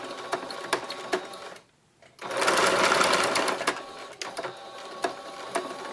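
A sewing machine backstitches through a key fob wristlet, its steady mechanical whir running in bursts, cutting out briefly for a pause, then resuming louder and continuing close up.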